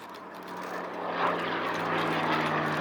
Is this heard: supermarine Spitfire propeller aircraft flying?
yes